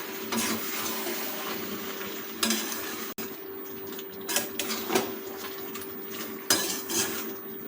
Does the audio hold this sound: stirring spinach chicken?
yes